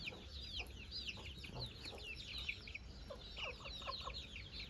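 Aseel chickens cluck steadily while small birds chirp busily in the background, a lively outdoor farmyard scene with no talking.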